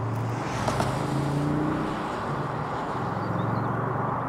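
A BMW Z8 roadster from the 1990s drives along a narrow British back road, its engine giving a steady low hum with road and wind rumble throughout and no talking.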